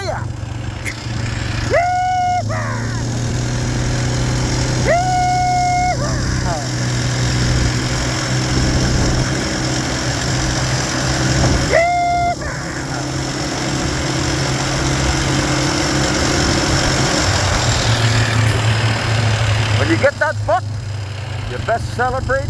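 A vehicle engine runs steadily and loud throughout a ride, a low droning hum with vibration, while people talk over it at intervals.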